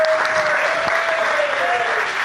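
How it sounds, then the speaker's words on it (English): Studio staff applaud steadily on a live entertainment news show, a dense, close clapping wash that stays even from start to finish with a faint tone running beneath it. "Why do people on your staff applaud so much for Tim and not for you?"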